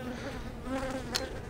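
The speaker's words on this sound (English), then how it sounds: "it attracts some robber bees" Robber bees buzz steadily around an opened beehive after a spring starvation period, a close droning hum with a faint tick near the end.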